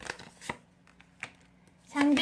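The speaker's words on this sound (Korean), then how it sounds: "자, 두 장을 더 뽑아보도록 할게요." Tarot cards are shuffled and drawn in several crisp close bursts of riffling and slapping, ending in a louder continuous shuffle, with a soft voice talking in between.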